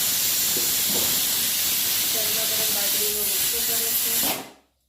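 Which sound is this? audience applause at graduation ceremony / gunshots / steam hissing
steam hissing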